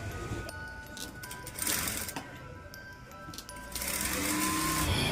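A sewing machine stitching a saree runs in bursts of rapid mechanical whirring and clatter, pausing briefly between runs, close and fairly quiet, with no speech.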